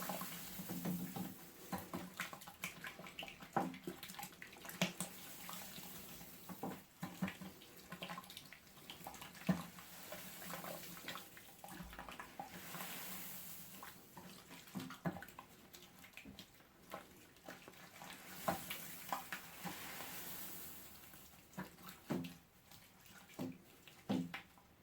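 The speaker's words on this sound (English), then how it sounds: "I'm just agitating the water as the grains go in, so that they'll all get covered in" Barley grains poured into brewing water in a Grainfather all-in-one brewing system, with the water stirred as they go in: a steady splashing, pouring wash of water with irregular knocks and clatters, close and moderately loud, with no speech.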